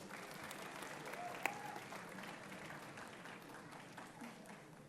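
An audience applauds at an alumni day reunion evening, a faint, steady patter of clapping from a crowd with a brief sharp click partway through.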